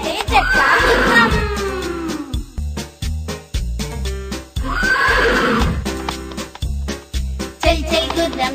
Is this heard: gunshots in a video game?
no